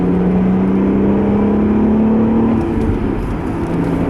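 A 2010 Acura TL SH-AWD with a manual gearbox drives up a cloverleaf entrance ramp, its engine note a steady rising drone that eases off near the end, loud and close with no talking.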